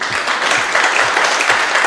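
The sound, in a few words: audience applause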